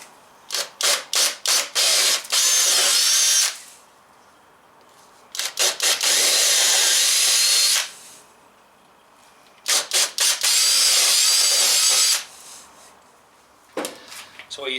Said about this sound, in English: we'll come back with a 1/4 inch, just a slightly bigger drill bit